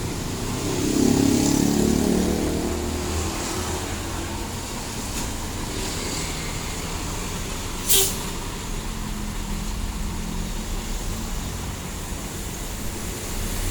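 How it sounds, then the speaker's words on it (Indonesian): An Agramas intercity bus departs from a roadside agent stop in Cengkareng, West Jakarta, with a low, steady engine rumble over traffic noise. A short, sharp air-brake hiss bursts out partway through. "Bus Agramas segera diberangkatkan setelah mengisi 3 penumpang di agen ini."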